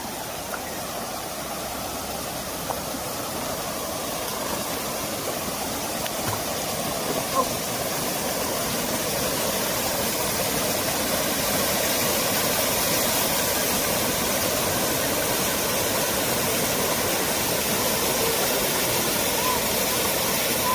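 River water pours down in a steady, dense broadband rush at Minahan in General Nakar, Quezon Province, unbroken and close throughout with no voices.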